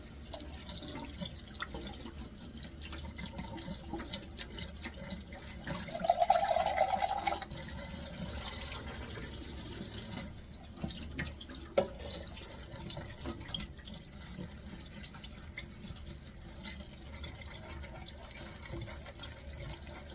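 Tap water runs and drips as canned beans are rinsed in a strainer at a kitchen sink. The trickle and splash continue at a low, steady level, with a brief louder gush partway through and no talk.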